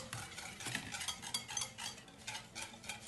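Banana chocolate cake batter being stirred in a bowl, a steady run of soft wet scraping and occasional utensil clinks against the bowl, close and fairly quiet, with no talking.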